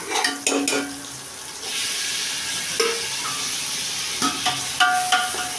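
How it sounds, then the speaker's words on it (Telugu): Chopped tomatoes fry in a pan of oil with a steady, close sizzle, while a spoon clatters and scrapes against the pan in bursts at the start and again toward the end. "ఈ టమాటా కూడా కొద్దిసేపు వేగిన తర్వాత"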